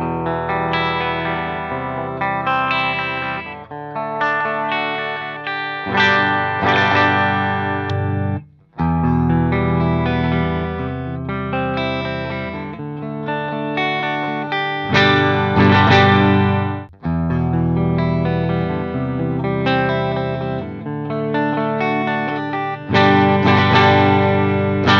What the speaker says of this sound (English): Now let's hear the guitar.